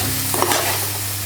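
Eggs beaten together with onion, salt and spices in a bowl, a steady whisking and stirring rustle with a few sharper clinks near the start, close and fairly loud over a low background hum.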